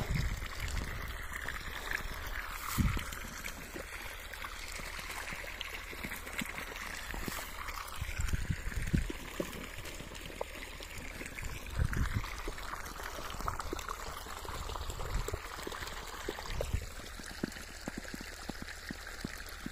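Irrigation water runs steadily from a cloth pipe into a wheat field bed, a continuous watery rush with splashy bursts, fairly close and moderate in level, with no talk over it.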